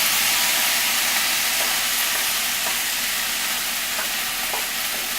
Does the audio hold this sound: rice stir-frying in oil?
yes